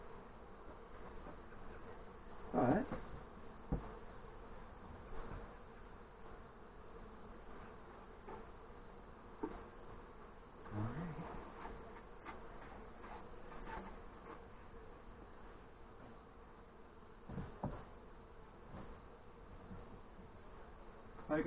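Honeybees in a newly installed nuc hive with only a few frames give off a faint, continuous buzzing hum, broken now and then by soft knocks and handling sounds, with a brief spoken word.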